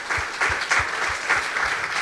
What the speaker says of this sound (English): give them a warm applause for their